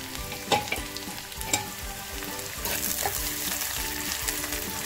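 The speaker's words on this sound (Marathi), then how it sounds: "आईने तेल मस्त कडकडून तापून घेतले आणि त्यात कांदा टाकला" Onion drops into well-heated oil in a village-style kitchen, a few knocks followed by a dense, loud crackling sizzle that swells and holds steady, with a low hum underneath.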